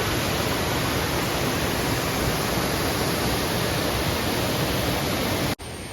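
A dense, unbroken roar of cascading water from Aruvikkuzhi waterfall fills the scene at close range, then drops abruptly just before the end and continues slightly quieter.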